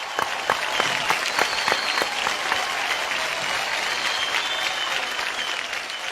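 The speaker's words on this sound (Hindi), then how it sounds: "मुझे इतना अच्छा लगता है कि ये तालियां उसके लिए नहीं बज रही" An audience on a singing show applauds a singer on stage, opening with a few sharp separate claps that quickly merge into sustained, fairly loud applause that keeps going steadily.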